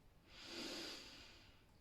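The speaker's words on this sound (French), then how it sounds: "inspiration par le nez" One slow, soft breath drawn in through the nose during a guided relaxation exercise. It swells and fades over about two seconds and is quiet and close.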